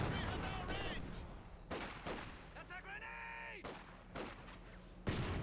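Rapid volleys of Katyusha rockets and gunfire rattle through a Company of Heroes 2 battle, with rising whistling streaks and repeated loud bursts under a commentator's voice.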